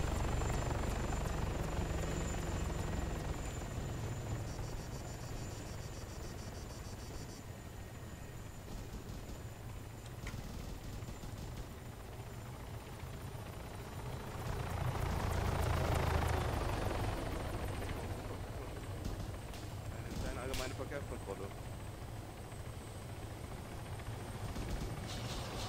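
Helicopter engine from the video game Arma 3 Altis Life, a steady rotor drone and whine running the whole time at moderate loudness, swelling briefly partway through, with no talk.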